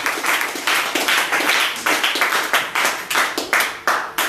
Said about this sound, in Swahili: Wapatie waimbaji makofi mazuri sana yale ambayo inastahili